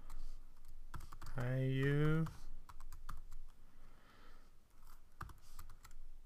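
Keys on a computer keyboard are tapped in a few sharp, separate clicks while typing a message into a web contact form, with a voice speaking briefly between them.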